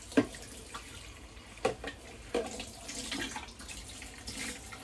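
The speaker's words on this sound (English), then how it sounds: "Got my faucet right here." A faucet runs beside a Hicozy ice machine, a steady, quiet stream of water splashing into a tray, with a few sharp clatters of handling over the soft, continuous flow.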